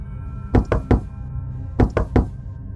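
Knocking from a cupboard rings out in two bursts of three sharp, loud knocks each, separated by a short pause, over a faint steady hum with no voices.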